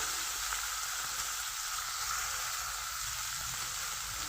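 Chicken pieces dropped into hot oil that was just used for frying potatoes, giving a steady, loud, continuous sizzle and crackle throughout, with no voices.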